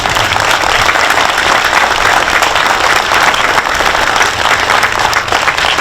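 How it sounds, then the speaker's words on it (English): A crowd at a Memorial Day parade ceremony in Halifax claps loudly and continuously for a bagpiper, a dense, even wash of applause with no pauses. "Let's give him a round of applause."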